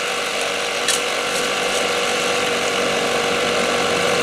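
A dry washer machine running in the desert while prospecting for gold, a steady loud mechanical rattle and clatter with an engine hum underneath, continuous throughout.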